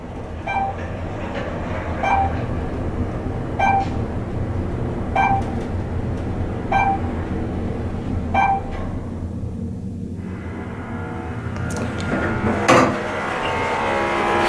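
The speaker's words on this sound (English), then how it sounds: "You got some Dover Impulse Traflomatic elevators here." Dover Impulse Traflomatic elevators at a resort tower ride between floors with a continuous rumbling hum, while Otis chimes ring out about every one and a half seconds in a steady series, followed by a few louder clunks and tones near the end.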